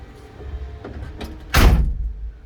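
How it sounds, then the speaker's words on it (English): The door of a 1966 Impala swings shut with a single solid thunk after some brief handling noises, close and loud, then a short fading ring-out. "Close the door, Jerry."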